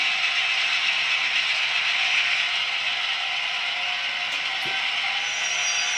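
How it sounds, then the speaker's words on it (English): A DCC model train locomotive with its prime mover racing as the wheels slip, a steady high mechanical whir and buzz holding at constant loudness, close and uninterrupted. "Now we're getting wheel slippage and the prime mover's running away because wheels are slipping."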